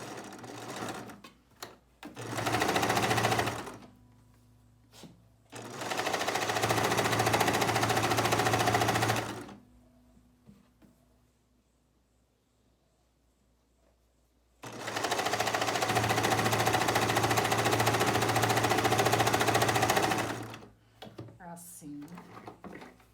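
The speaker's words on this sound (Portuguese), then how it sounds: "vamos colocar ela assim, tá? E vamos costurar." A sewing machine stitches fabric tape in long runs of steady, loud mechanical whirring, each lasting several seconds and separated by quiet pauses with small handling noises, close up and alone.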